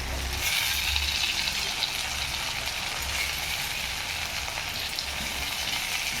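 Tomatoes hit hot oil with hing and curry leaves in a pan, giving a loud, steady, close sizzle of frying that holds evenly throughout without any talking.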